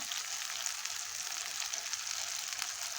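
Chicken gizzard and liver fry in a spiced masala, giving a steady, dense, close sizzle that hisses evenly throughout with no pauses.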